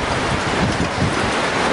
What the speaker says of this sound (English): The 36-foot waves were relentless